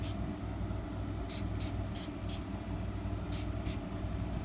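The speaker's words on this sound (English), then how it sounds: "I'm going to lightly spray it." Light spritzes of water from a hand spray bottle onto sari silk being dyed, several short bursts in two clusters over a steady low background rumble, with no talking.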